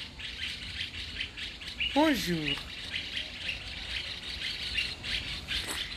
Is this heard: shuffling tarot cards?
no